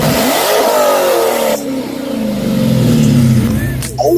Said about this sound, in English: He just revved this car and it sounded like I never heard it sound in my life.